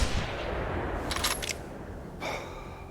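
A .223 rifle firing at a goat in theHunter Classic hunting game gives a short, sharp cluster of cracks midway and another brief burst later, set against a steady outdoor background hiss.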